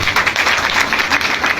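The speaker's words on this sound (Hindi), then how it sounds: "ताली बजाइए" An audience at a seminar or business talk claps in a short, loud, dense burst of applause that holds steady throughout.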